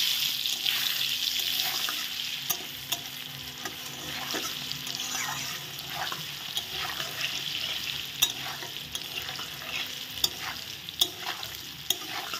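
Paneer cubes frying in hot oil in a pan for a Kashmiri aloo paneer, a steady close sizzle with occasional stirring scrapes and small pops throughout.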